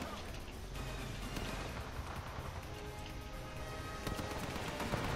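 Gunfire in a video game on a sniper map, with crackling shots repeating quickly at close and middle distance over a dense, noisy battle din, and speech faintly present.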